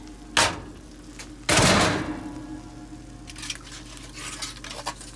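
A baked steak pan comes out of an oven with a loud metallic clank of the pan, followed by a brief scrape and softer kitchen clatter, then quieter handling noises.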